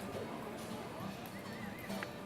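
Horse working in a cutting competition arena, hooves and movement mixed under an announcer's commentary, with a brief faint whinny-like sound.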